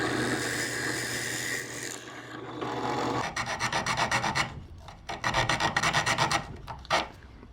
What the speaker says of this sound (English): I'll just use these little saws I made. They're just made with dowels and hacksaw blades.